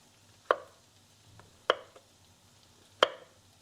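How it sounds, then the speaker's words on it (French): A kitchen knife slices white and brown mushrooms into rounds on a cutting board, three crisp, distinct chops spaced about a second apart with faint softer taps between, close and clear with no talking. "je vais juste les couper en rondelles, en tranches comme ça"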